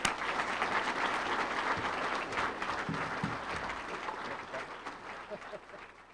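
Applause from a crowd greeting a Hall of Fame inductee at an award ceremony, a steady wash of clapping that stays even and then fades slightly toward the end.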